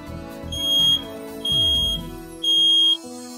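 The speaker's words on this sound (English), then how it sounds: "Let children hear what a smoke alarm sounds like." A smoke alarm sounds three loud, shrill high-pitched beeps in a steady repeating pattern, each about half a second long with short gaps between.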